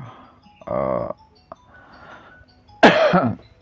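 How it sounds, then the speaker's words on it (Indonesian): Two separate coughs close to the mic, the first a shorter throaty one and the second a louder, harsher burst, with quiet pauses around them. "Maaf ya, sedikit saya agak batuk."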